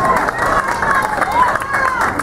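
A rally crowd in Coral Springs, Florida claps and cheers, a loud continuous wash of applause and raised voices filling the whole moment.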